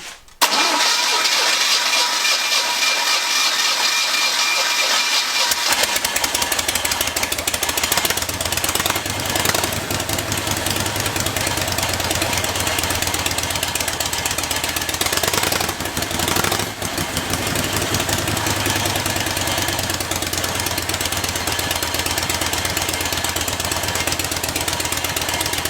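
A Harley-Davidson motorcycle engine starts with the choke on and settles into a loud, continuous idle with a rough, rapid thumping pulse, close up and sustained with no talking.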